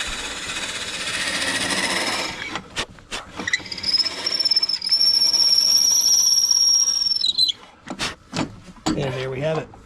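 Hole being drilled in a brass bar to make a hammer: a steady high whine and grinding hiss that runs for several seconds close to the mic, then stops, with someone talking before and after.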